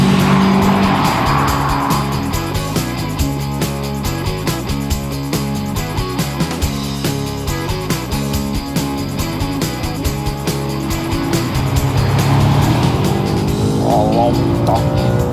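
An Audi RS5 driven hard on the Hockenheim race track, with a loud close engine roar that shifts and rises through gears and tires squealing, with a voice talking over it.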